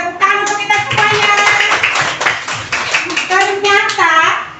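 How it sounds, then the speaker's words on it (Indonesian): A class of young schoolchildren claps together in a classroom, the rhythmic, patterned clapping mixed with children's voices and an adult speaking over it. "Tepuk tangan untuk kita semuanya."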